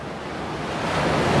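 Ocean waves breaking on a seashore during a fishing outing, a steady roaring wash of surf that swells gradually louder, with wind noise and no voices.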